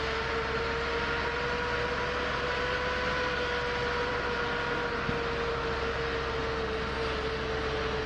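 F-15E Strike Eagle jet engine starting up in the DCS flight simulator, a steady whining drone with a sustained high tone over broad rumbling noise, continuous and even throughout, no voices.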